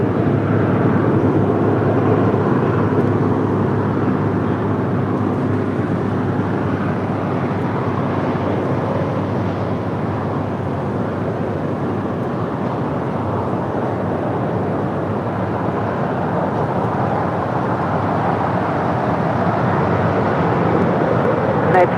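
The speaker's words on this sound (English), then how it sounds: "United 777 continuing her way over to Terminal 7 here on the south side" A United Boeing 777 airliner taxis at LAX toward Terminal 7 on the south side, giving a steady, loud, broadband jet engine rumble that holds unchanged from start to end.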